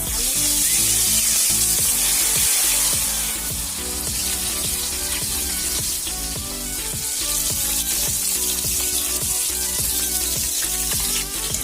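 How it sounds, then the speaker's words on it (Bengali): Rui fish fries in a pan with a continuous loud sizzle and crackle, steady throughout with faint rhythmic clatter underneath. "মাছটা ভাজা প্রথমে ভালো করে ভেজে নেবো"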